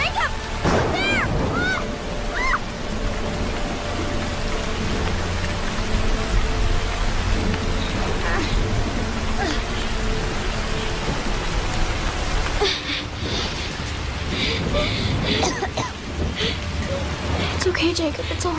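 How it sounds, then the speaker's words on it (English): Heavy, steady rain pours down, a dense hiss of drops on surfaces lasting the whole stretch, with low rumbling underneath and voices speaking briefly over it. "We're just gonna stay here till the rain stops."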